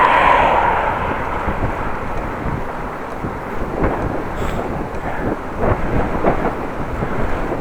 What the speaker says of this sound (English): Wind in my face again